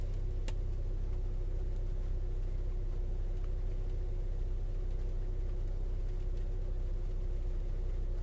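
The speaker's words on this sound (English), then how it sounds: "me give a rev a bit. So it's working here." A car engine, being read through an OBD2 ELM327 scanner, runs with a steady low rumble and a faint hum throughout, with no distinct rev rising above the constant drone.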